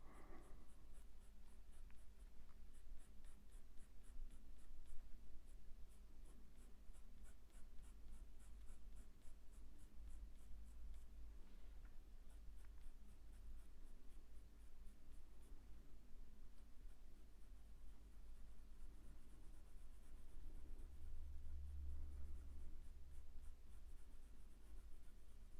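A pencil shades lightly across paper with soft, continuous scratchy strokes, close and fairly faint, running steadily throughout with no speech.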